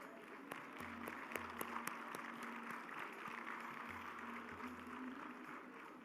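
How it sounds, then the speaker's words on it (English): Audience applause at a closing ceremony of a UNESCO India Africa hackathon, a soft steady patter of many hands clapping with a few sharper claps, moderately distant and continuous, no talk over it. "Can we have a round of applause?"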